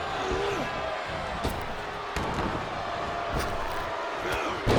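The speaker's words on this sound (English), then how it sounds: "What a raucous crowd here tonight." A steady, loud arena crowd roars and cheers at a wrestling show in the WWE 2K24 video game, with sharp thuds of bodies hitting the mat cutting through now and then and commentary talking over it.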